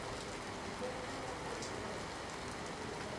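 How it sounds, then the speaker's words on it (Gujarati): Heavy monsoon rain falls steadily in Sabarkantha, a dense even patter on surfaces with no pauses, moderately quiet and with no voices. "ભારે વરસાદથી અનેક ખેતરોમાં પાણી ભરાઈ જવા પામ્યા હતા"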